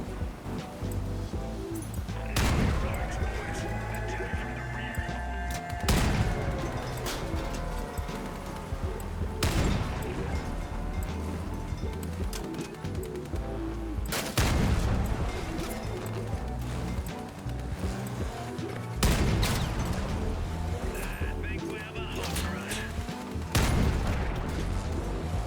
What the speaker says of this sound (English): As you can see, the cannons are effective at almost any range.